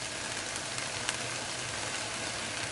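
Stir fry sauce poured over broccoli and peas sizzling in a hot pan, giving a steady, close frying hiss with faint crackles throughout and no talking.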